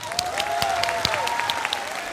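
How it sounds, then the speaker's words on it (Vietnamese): An audience at a televised singing competition claps steadily for contestants, a dense, continuous burst of applause with a faint sustained tone running underneath. "phải dành cho các em một tràng pháo tay thật lớn."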